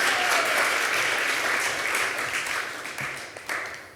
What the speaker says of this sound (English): Yay, let's give a round of applause for Ayana Singleton